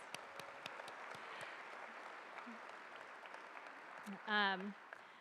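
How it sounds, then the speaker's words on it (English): A convocation crowd at a Cal Poly campus gathering claps for Maritime campus colleagues in a quiet, distant patter that stays steady, with a brief voice near the end. "Let's give them a round of applause."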